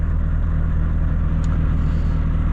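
A parked Volvo FH 540 truck idles steadily, a low even diesel rumble with a constant hum, close and unbroken, with no voices.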